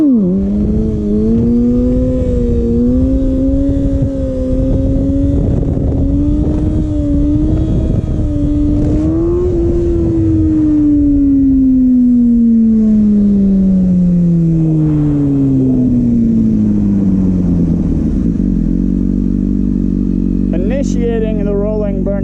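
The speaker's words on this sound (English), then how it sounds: "Let's do some more wheelies." A Kawasaki ZX6R motorcycle engine revs loud and close during wheelies, the pitch climbing and holding, then falling away as it slows, under a constant rush of wind noise.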